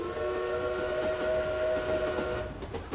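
A train sounds its whistle at the Abilene Smoky Valley Railroad in Kansas, a sustained, fairly loud multi-tone blast holding steady over the rumble of the train, with faint clanks near the end.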